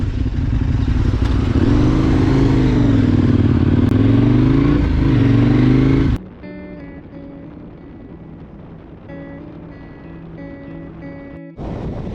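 Motorcycle on a road trip heading toward Portugal's back roads, its engine roaring loud and close with wavering pitch for about six seconds, then dropping to a quieter, steadier hum with clattering and a brief cut near the end.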